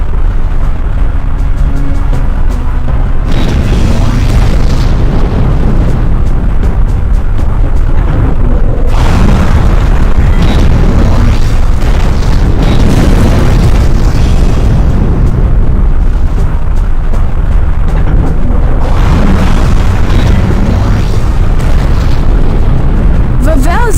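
In the PS2 game Robot Alchemic Drive, heavy booms and rumbling explosions rip through a city as Vavel destroys it, one dense, loud, continuous barrage of blasts with surging waves of destruction.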